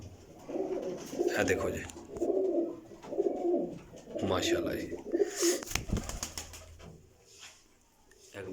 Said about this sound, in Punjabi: ਬਹੁਤ ਹਾਈ ਕੁਆਲਿਟੀ ਦਾ ਕਬੂਤਰ ਹੈ